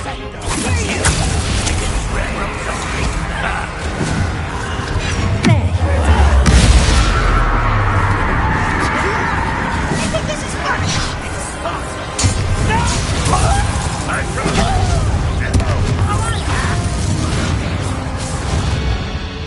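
Repeated Confringo fire spells bursting in the Hogwarts video game, heavy booms and crashing impacts over a dense, loud game mix, with voices talking throughout.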